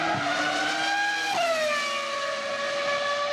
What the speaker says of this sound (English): Formula One cars getting a new soundtrack through the introduction of V10 engines